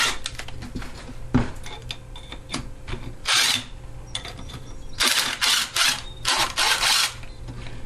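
Impact driver rattling a bolt loose on a 3.5 HP Tecumseh lawnmower engine, heard as several close, loud bursts of hammering whir between quieter metallic clinks and handling of tools and parts.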